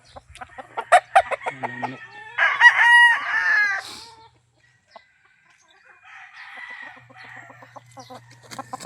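Backyard chickens cluck in short bursts, then a rooster crows loudly nearby, followed by softer clucking and faint farmyard noise.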